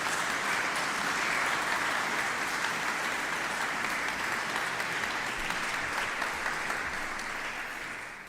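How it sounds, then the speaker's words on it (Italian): An audience at a live event applauds musicians who play medieval repertoire on period instruments, a dense sustained wash of clapping lasting several seconds before easing off. "Ecco, un applauso a questi."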